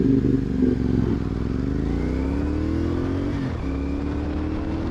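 Cruiser motorcycles rumbling past on a road, deep engine throb swelling and then easing off as they go by, loud and close.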